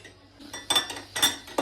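A metal spoon clinks against a pot or bowl while lokma dough is scooped and dipped into frying oil. Three light, close taps come at irregular intervals.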